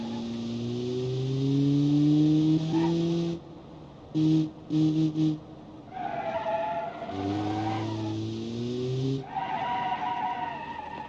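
A car in the BeamNG.drive driving game screeches through corners, long tire squeals and skids rising and sliding in pitch, broken by short chirps, loud and alone.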